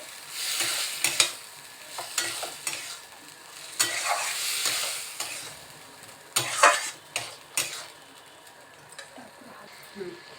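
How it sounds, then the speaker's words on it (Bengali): Prawn and pumpkin curry being stirred in a pan, with repeated scraping strokes and clinks of a utensil against metal over a steady frying sizzle, heard up close with no talk. "ভালো করে মাছের সঙ্গে তরকারিটা ভালো করে মিশিয়ে নিতে হবে"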